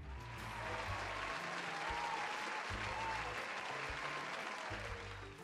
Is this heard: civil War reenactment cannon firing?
no